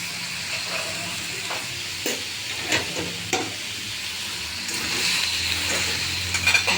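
Ground spices such as turmeric, red chilli powder and coriander powder frying in a pan hiss and sizzle steadily as a spoon scrapes through them at intervals, the sizzle swelling louder toward the end, with no talking.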